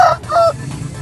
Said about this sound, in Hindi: अस्सलामुअलैकुम भैया कितने का मुर्गा?